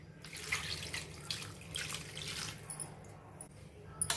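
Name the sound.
water being added to fish curry ingredients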